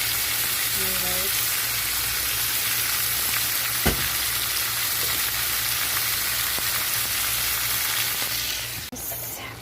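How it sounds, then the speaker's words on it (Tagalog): Beef sizzling and frying in a pan for a beef curry, a steady close crackle with occasional stirring knocks and a brief voice in the background. "Malapit na maluto ang beef ko guys."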